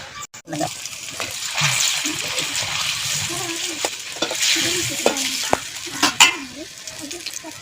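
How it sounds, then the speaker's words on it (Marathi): Maswadi, spiced gram-flour rolls, frying in heated oil in a village home kitchen, with a steady close sizzle and bubbling broken by scattered stirring clinks and splashes; faint voices are heard underneath. "असं तेल टाकायचं, तेल कडवायचं, त्याच्यात ती मासोळ वडी सोडायची."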